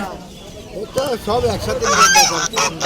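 Fowl at a market for hill chickens call loudly and nearby, with a run of harsh honking, squawking cries that overlap and grow busier toward the end.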